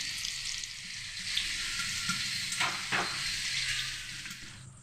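Pieces of tomato, onion and green chilli fry in hot oil in a pan for a spicy curry. The sizzle is steady and bright, broken by a couple of brief stirring scrapes near the middle.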